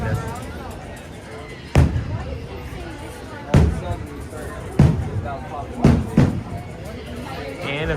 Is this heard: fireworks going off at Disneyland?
yes